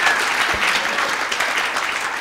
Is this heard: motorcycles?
no